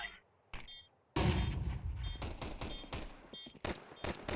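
Gunfire in the video game Counter-Strike 2 during a Premier mode match: a few sharp shots after a brief silence, then a dense burst of rapid automatic fire with further separate shots and clatter, loud and close.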